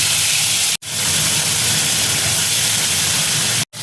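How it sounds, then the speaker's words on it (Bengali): Rui fish frying in hot mustard oil in a kadai: a loud, continuous sizzling hiss close by, broken by two brief moments of silence. "এবার আমি মাছগুলো এক এক করে ভেজে নেব।"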